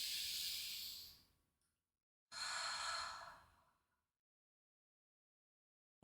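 Two long, slow breaths during a tai chi exercise for back pain rehabilitation, each a soft airy exhale lasting over a second, close and quiet, separated by a short silence with no talking.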